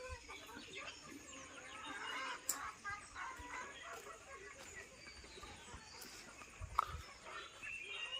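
Chickens clucking in a rural Konkan village yard in the morning, a rooster or hens calling close by amid steady low outdoor ambience and scattered brief knocks.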